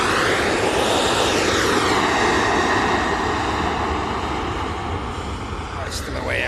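Ryanair airliner passing at Manchester Airport, a loud sustained jet roar with a falling whine as it goes by, steady and close, with voices talking over it.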